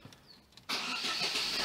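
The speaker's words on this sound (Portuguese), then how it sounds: "Liga o carro para ver se vai apagar, se está tudo normal" A 2008 Chevrolet Corsa engine cranks and catches after a brief quiet moment, then runs at a steady, loud idle close to the microphone.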